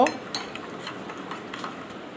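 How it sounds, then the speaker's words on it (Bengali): Sugar being stirred into eggs and salt in a bowl, soft scraping and light clinking of a spoon repeating steadily, faint and close, with no talk. "ডিমের সাথে আর লবণের সাথে চিনিটা মিক্স করে নেব"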